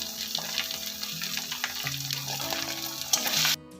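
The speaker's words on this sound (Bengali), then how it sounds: "এবার সমস্ত মশলাগুলোকে আমি কষিয়ে নিচ্ছি খুব ভালো করে।" Ground spices and garlic paste being fried and stirred in mustard oil for a Bengali-style mutton and potato curry, a faint soft sizzle with scraping and clinking, ending in a brief louder splash.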